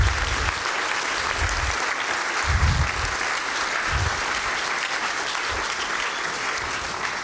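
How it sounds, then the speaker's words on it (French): A conference audience applauds two speakers at the end of their talk, a steady, dense wash of clapping from a large room that holds strong from start to finish. "on peut effectivement applaudir nos deux brillants intervenants"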